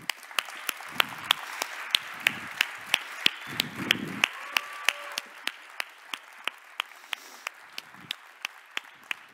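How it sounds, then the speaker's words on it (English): Applause from a conference audience at the opening of Heapcon 2018: scattered, sparse claps with sharp individual strikes, thinning out steadily over several seconds, with a few low murmurs in between. "Can we hear another round of applause?"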